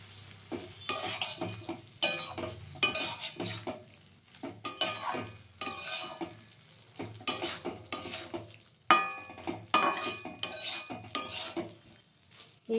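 Green beans with a little sugar, Bengali mustard style, being stir-fried in a pan: repeated bursts of scraping spatula strokes and metallic clinks over a faint low sizzle, separated by short pauses, with no voices.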